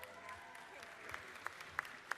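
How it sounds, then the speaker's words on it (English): Applause in the Georgia House chamber, a moderate spread of clapping with a few sharp, close individual claps standing out near the end. "Please give her a round of applause."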